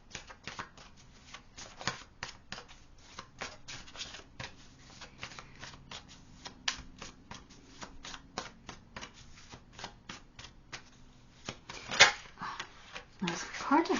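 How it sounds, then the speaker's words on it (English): Tarot cards being shuffled and flipped over during a reading: repeated sharp, close slaps and riffles in an irregular rhythm, with a louder burst of shuffling near the end, while a voice talks quietly underneath. "Those cards are having a hard time flipping today, but as soon as I was going to say that, they flip."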